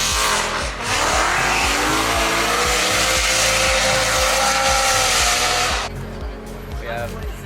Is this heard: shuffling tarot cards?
no